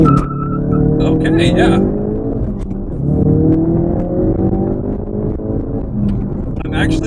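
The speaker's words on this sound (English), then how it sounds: "And that was actually a pretty good launch, too." A 2017 Ford Focus RS all-wheel-drive hot hatch launches hard, its engine revving up through first gear with rising whine and brief tire noise, loud and close, with a person speaking briefly over it.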